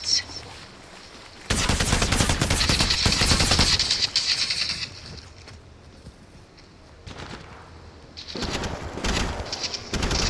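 Automatic gunfire from Apex Legends Mobile, with loud rapid bursts lasting a couple of seconds, then a quieter stretch, then another sustained burst near the end, while game sounds run underneath.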